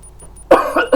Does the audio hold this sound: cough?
yes